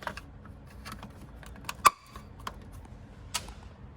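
Plastic relay box cover on a Ford E350 snapping shut, one sharp close click amid a few lighter ticks and handling taps, quiet and near.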